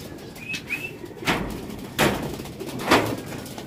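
Pigeons take off and land, their wings flapping in three quick, close bursts. A short whistling call is heard near the start.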